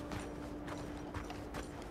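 Horse hooves clip-clop in Red Dead Redemption II, a quick run of close, even steps over a steady low mechanical hum lasting under two seconds.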